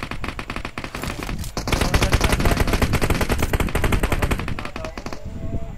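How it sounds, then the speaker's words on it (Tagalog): Automatic gunfire rattles in rapid, sustained bursts during a firefight in a shooter video game, loud and close with overlapping shots and no voices. "palitan tayo ng putok"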